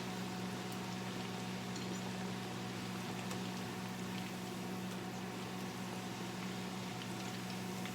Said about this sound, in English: I'm just gonna put it on 30 seconds in the microwave.